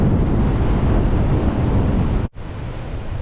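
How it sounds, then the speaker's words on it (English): Strong wind gusting outdoors on a hilltop beside a leaning rotten tree, a loud buffeting rumble against the microphone with a brief lull near the end. "When you can hear and feel the wind"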